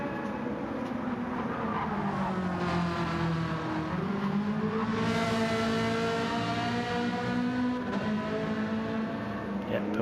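Race car passing by in a racing game: a sustained engine drone with its pitch sweeping down, then up and down again as it passes, loud and continuous for about ten seconds.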